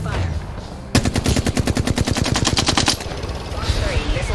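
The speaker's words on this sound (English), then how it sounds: "Opening fire." A fast, loud burst of automatic gunfire in Apex Legends, a string of about twenty evenly spaced shots lasting around two seconds, then quieter game ambience.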